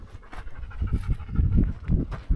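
A dog pants in quick, loud, rhythmic bursts, close by, with no talking over it.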